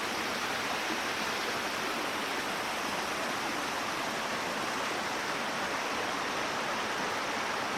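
Fallingwater Cascades on the Blue Ridge Parkway tumbles over rocks at low water, a steady, dense rushing roar without break, close and loud, with no voices.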